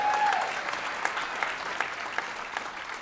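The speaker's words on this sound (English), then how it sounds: "Let's give them a round of applause." Applause for the Girl Scouts fills a hall at a state senator swearing-in ceremony, steady crowd clapping at moderate volume with distinct louder claps popping out near the end.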